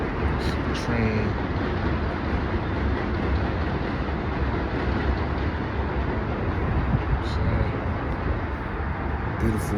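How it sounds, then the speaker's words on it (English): A train passes through a city at night, a steady, moderately loud rolling rumble with faint clatter, continuous throughout with brief high squeaks and a voice now and then. "See the train."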